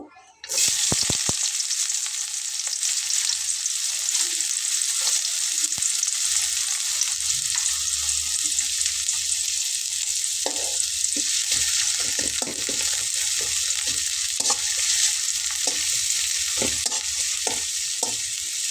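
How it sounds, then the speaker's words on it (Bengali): Steady, loud sizzling of chopped onions frying in oil until deep red-brown, with occasional scraping and stirring clicks from a utensil throughout. "পেঁয়াজটাকে আমি একদম লাল লাল করে ভেজে নেব"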